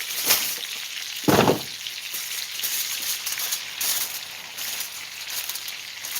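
Seared steaks sizzle steadily in a cast iron skillet over very low heat, a continuous close hiss with one louder burst of crackle early on and no talking.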